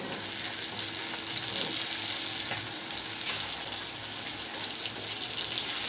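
Foli fish coated in spices frying in a pan right after being flipped, a continuous dense sizzle and crackle with faint scrapes, heard close and steady throughout.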